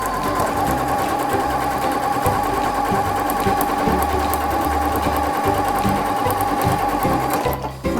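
A Janome sewing machine with an Ultra Glide foot stitches elastic in a fast, steady mechanical whir with rhythmic pulsing needle strokes, close and loud, stopping abruptly at the end.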